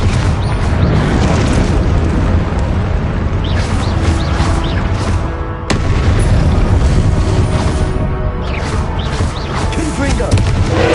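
Confringo fire-blast spell explosions from Hogwarts Legacy, a loud, dense run of booming bursts filling the whole stretch, with a brief lull and a sharp crack near the middle before the blasts resume.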